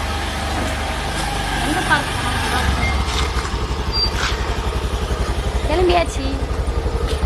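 A two-wheeler is wheeled out with its engine running, giving a steady, close, low idling thrum with a pulsing rhythm throughout, and faint background voices.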